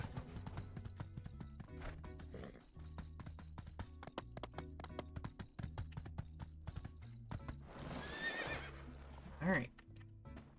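Horse in the video game My Time at Sandrock, with steady clip-clop hooves and a loud whinny near the end, heard under game music while a person briefly speaks.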